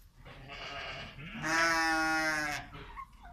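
Sheep in a national park pasture in Urbasa and Andia give a couple of bleats, the second one long, loud and wavering, close by.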